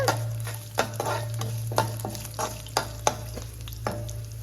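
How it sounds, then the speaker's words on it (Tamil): Garlic cloves and curry leaves sautéing in a pan, a steady sizzle with a spoon stirring and tapping at a regular rhythm, close and moderately loud with no talking. "ஒரு 5 பல் பூண்டு கருவேப்பிலை போட்டு ஒரு வதக்கி எடுத்துக்கலாம்"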